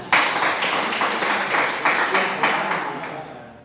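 A classroom of students claps for a classmate, a dense burst of many hands that starts abruptly, holds at a strong, even level, then thins and fades out toward the end.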